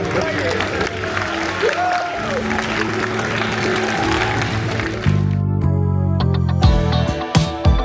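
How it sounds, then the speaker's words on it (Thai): Audience clapping at an anniversary ceremony of a music college, a sustained crowd applause under an announcer's voice, giving way midway to a musical fanfare with sharp accented hits. "ขอเสียงปรบมือด้วยครับ"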